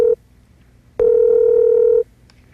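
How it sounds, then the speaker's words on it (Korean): Two electronic beep tones from a phone line when a call does not connect: a short one, then a longer steady beep lasting about a second, clean and loud. "연결이 되지 않아 삐 소리 후"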